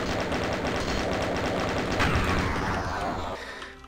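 Rapid gunfire rattles in Doom on the Sunlust map, a dense stream of shots at close range that tapers off at the end.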